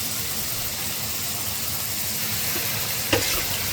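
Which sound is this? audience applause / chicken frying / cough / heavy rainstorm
chicken frying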